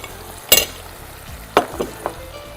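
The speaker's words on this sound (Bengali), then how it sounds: "মশলাটা ভালো মতো কষিয়ে দিতে হবে মশলাটা একটু কষানো হচ্ছে" Spice paste for a fish bhuna sautéing in oil, a low sizzle punctuated by two loud spatula scrapes and a smaller one, close up with no voices.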